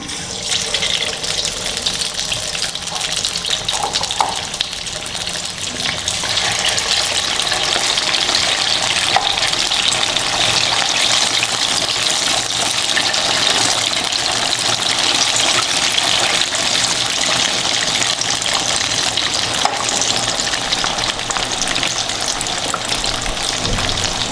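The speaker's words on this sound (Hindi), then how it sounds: "ऑयल मेरा गर्म हो चुका है, फिश इसके अंदर डालेंगे।" Marinated fish frying in hot oil, a dense, steady crackling sizzle that grows slightly louder after the first few seconds and holds continuously up close, with no talk over it.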